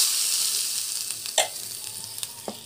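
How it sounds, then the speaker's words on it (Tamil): Mustard seeds, cumin and mint sauté in a hot pan with a steady close sizzle, broken by a few sharp pops and crackles of spattering oil, with no voices. "ஸோ நல்லா வந்து வதங்கிட்டோம்."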